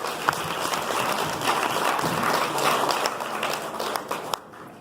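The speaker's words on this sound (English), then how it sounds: "Please give a round of applause for Dr. Buchanan" Sustained applause from an audience at a nutrition talk during an annual vegan potluck, a steady, dense wash of clapping that runs almost the whole time and thins out near the end.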